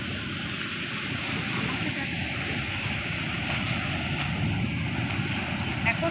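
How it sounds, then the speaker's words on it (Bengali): Sea waves at high tide on Kargil beach near Bakkhali in West Bengal, a continuous wash of surf with steady wind noise and no distinct individual breakers standing out. "এখন জোয়ার চলছে, যার জন্য দেখো এতটা ঢেউয়ের স্রোত আর ঢেউয়ের আওয়াজগুলো দেখো।"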